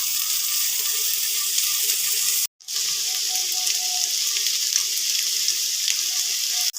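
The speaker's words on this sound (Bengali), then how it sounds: "ক্যাপসিকামটাও পেঁয়াজের সাথে ভালো করে ভেজে নিতে হবে" Onion, green chili and capsicum fry in a pan with a loud, continuous hiss of sizzling oil that drops out for a moment midway and then resumes.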